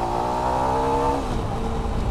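A Zontes T310 small trail motorcycle re-accelerates, its engine note holding a steady buzzing pitch before dropping away, close and continuous with no talking.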